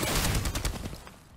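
Rapid bursts of Flatline assault rifle fire in the Apex Legends video game, a dense fusillade of automatic shots that rings out loud at first and then tapers off with the sound fading.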